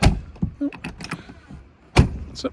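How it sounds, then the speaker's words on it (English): A car door on a 1969 Alfa Romeo Giulia Super 1600 shuts with a solid thud, followed by a second closing thump a couple of seconds later, with brief talk in between. "Shut that door properly."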